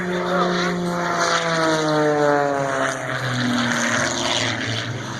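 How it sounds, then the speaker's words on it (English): A propeller airplane accelerates at low altitude toward nearly 300 miles an hour, its steady engine drone shifting in pitch as it sweeps past, loud and continuous throughout. "he allows the airplane to again accelerate, coming up close to 300 miles an hour"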